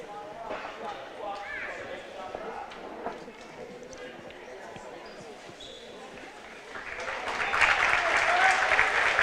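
A gym crowd at a high school boys basketball game between Sacred Heart and Jackson Heights at Wabaunsee claps, the applause swelling louder toward the end beneath a commentator's voice.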